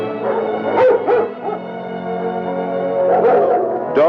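German Shepherd scout dogs in training bark loudly and close, a few sharp yelps and barks in bursts over a humming background, as on an old film soundtrack.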